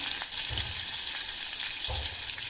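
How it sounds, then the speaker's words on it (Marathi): Curry leaves and asafoetida tempering sizzle in hot oil for a drumstick soup, a steady, close, bright crackle with soft stirring bumps underneath. "मस्तपैकी आपण आता हे सर्व साहित्य तेलामध्ये मिक्स करून घेऊयात इथे आपली आता फोडणी तर तयार झालेली आहे"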